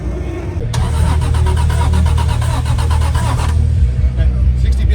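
A turbocharged track car's engine fires up near the microphone, cranking into a loud, steady rumbling idle that runs for a few seconds before easing off, with background chatter underneath.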